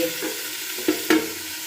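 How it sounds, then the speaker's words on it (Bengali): An egg fries in a pan with a steady soft sizzle, broken by a few brief stirring or scraping clicks. "ডিমটাকে একটু ভালো করে একটু ভাজা ভাজে করে নিচ্ছি"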